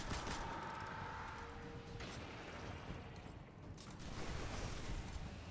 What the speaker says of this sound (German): Da kommen Schüsse geflogen.